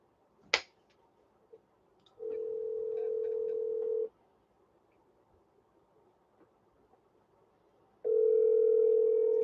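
A phone call on speakerphone rings out with two long, steady ring tones separated by a pause, loud and clear in an otherwise quiet room with no talking.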